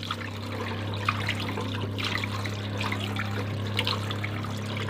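Cool tap water runs over freshly pressure-cooked hard boiled eggs, a steady, close trickle and splash that continues evenly throughout with no talking.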